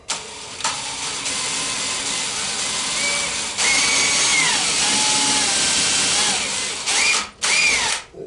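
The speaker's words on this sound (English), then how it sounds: "Be a good idea to pre-drill them." A power drill pre-drilling holes while installing knees in a bass boat whirs loudly and steadily, pitch shifting as it bites in, then briefly stops and restarts near the end.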